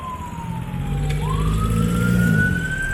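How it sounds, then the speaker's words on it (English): An ambulance siren passing along a busy street in Talamban, Cebu: a wailing tone slides down then sweeps back up over steady traffic rumble, moderately loud and passing by. "So an ambulance."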